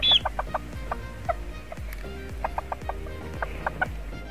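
Show chickens bred for posing cluck in short, repeated bursts over a scratchy farmyard background, close and fairly loud, with no voices.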